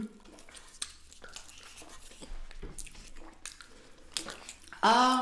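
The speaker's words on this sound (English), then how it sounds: "No, you're still chewing," Someone chews sticky, crusty expired leftover dessert up close, with soft wet clicks and smacks at an irregular pace and a louder burst of noise at the end.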